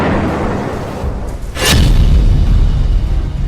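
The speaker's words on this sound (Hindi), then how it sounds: "27 सितंबर 2024 को इसी बमबारी में नसरल्ला की मौत हुई थी।" A heavy bomb blast from an Israeli airstrike in Lebanon, a deep rumbling boom that swells after a faint whoosh and lingers as a loud, sustained low roar.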